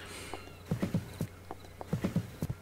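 Horse hooves clip-clop in the video game Second Life, a faint, fairly slow run of light hoof taps in small clusters, two or three beats at a time, over quiet background.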